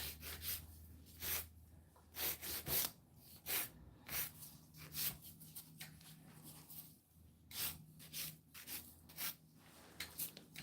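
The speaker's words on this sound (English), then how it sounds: "hand filing this acrylic it feels like I'm filing gel" Acrylic nails are shaped with a hand file in close-up. The strokes are soft and raspy, repeated in an uneven rhythm of short bursts with brief pauses, and they sound faint and near with no talk.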